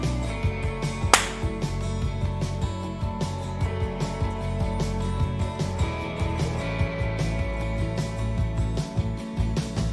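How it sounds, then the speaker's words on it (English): One sharp, close hand clap cracks out early over a steady, quieter background of music during a live stream workshop Q&A. "So I'm gonna clap now."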